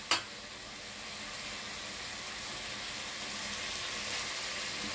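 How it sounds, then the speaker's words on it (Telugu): Tomatoes fry in a pan for Rayalaseema-style bagara rice, giving a steady, even sizzle throughout, close and moderately quiet, after a single brief knock at the start. "ఈ టమాటాలన్నీ బాగా మగ్గిపోయేదాకా ఫ్రై చేసుకోవాలి"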